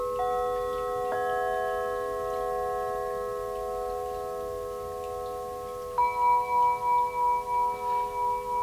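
A crystal singing bowl struck with a fiberglass mallet gives a clear, sustained ringing tone, with a second strike around six seconds in that adds a brighter pitch and a gently pulsing shimmer.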